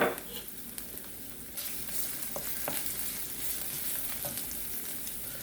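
Garlic sizzles and fries steadily in hot oil in a non-stick pan, prepared for ground beef with peas and carrots, with a few soft stirring scrapes over a continuous close crackle.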